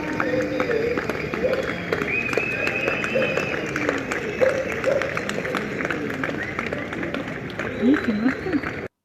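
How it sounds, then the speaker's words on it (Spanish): Evening clapping from neighbours in Azul during the pandemic, a dense steady patter of many hands spread across the whole stretch, with faint voices and calls mixed in. "ahí estaban los aplausos de las 20 de Azul"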